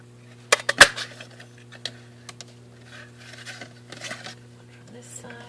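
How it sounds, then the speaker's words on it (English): A 3/4 inch circle punch cutting paper circles for a gold foil rose card, a few sharp close clicks and snaps near the start, then softer handling rustles over a low steady hum. "3/4 inch circle punch. We're going to punch out 2 circles from it."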